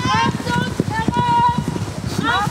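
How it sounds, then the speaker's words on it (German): Steady clip-clop of riding-school pony hooves on hard ground, close and rhythmic, with a voice talking over the trotting. "Diese Kinder haben kein eigenes Pferd, sondern reiten auf den Schulponys der Smiths."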